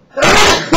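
A single sharp sneeze bursts out close and loud, a brief intake followed by an explosive release lasting under a second.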